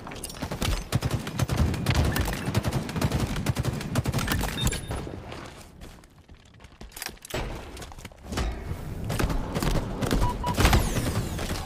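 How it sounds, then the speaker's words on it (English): Grenade explosions and gunfire fill a Live Fire Oddball video game match, loud and dense with rapid bursts and shots, a brief lull midway, then renewed heavy fire. "Just throwing every grenade they have."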